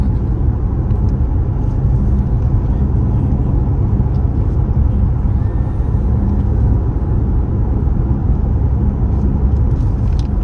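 A car drives along a road, heard from inside the cabin as a steady, loud low rumble of engine and tyres that holds evenly throughout with no talking.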